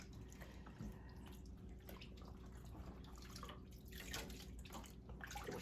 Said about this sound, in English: gently push it into the water and then just kind of swish it back and forth a bit